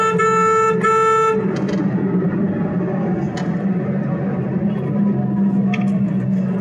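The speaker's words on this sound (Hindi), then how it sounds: "अब मेरे को इसको ओवरटेक करना है, तो मैं इसको हॉर्न दूंगा" A car horn blares in two quick honks, loud and close, while overtaking on the road, followed by the rumble of road traffic and fainter distant toots.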